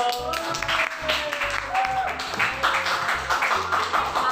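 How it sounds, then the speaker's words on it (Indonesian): Classroom or workshop group clapping, a rhythmic patter of hands over a steady low musical beat, moderately close, with voices mixed in. "Tepuk tangan dulu"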